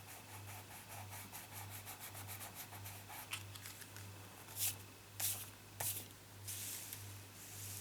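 An eraser rubbing back and forth on a vellum window card, a soft, faint, close scratching with several sharper strokes near the end and no talking.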